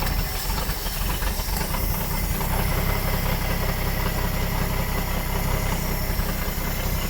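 A 1957 Chevrolet 150 engine idles steadily after sitting parked for 40 years. The idle is loud and close, with a continuous rumbling drone, a hissing, rattly edge and a constant, even level throughout.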